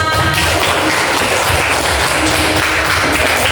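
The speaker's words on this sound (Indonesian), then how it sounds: "Tepuk tangan." A classroom of students applauds after a group presentation, a dense, continuous wash of many hands clapping close by for a few seconds.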